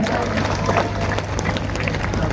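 Dense, steady roar of a huge outdoor crowd of tens of thousands clapping at a mosque courtyard religious gathering in Pekanbaru, a continuous wash of hands with a low hum underneath.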